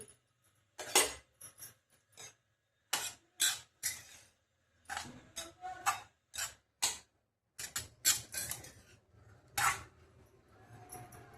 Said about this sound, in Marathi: आता हे चांगलं मिक्स करून घेऊ।